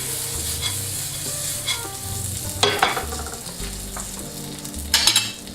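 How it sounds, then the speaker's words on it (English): Almonds tossed and stirred in a hot pan, with a steady sizzle broken by rattling scrapes and clinks of the utensil against the pan, close and fairly loud. "And we toss them. Get the almond coated."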